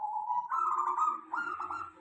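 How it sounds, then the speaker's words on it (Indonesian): A local zebra dove (perkutut) gives a soft, close cooing call of smooth tonal notes with small clicking breaks, heard alone in a quiet setting. "Perkutut lokal untuk suara kecil ngeklik"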